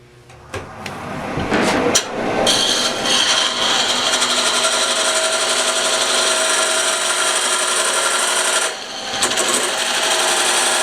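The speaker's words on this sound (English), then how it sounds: "I need to go ahead and cut a tenon so I can get this in a chuck" A tenon is cut on a spalted oak fruit bowl spinning on a wood lathe: a few sharp knocks, then a loud, sustained tool-on-wood cutting roar that dips briefly near the end and resumes.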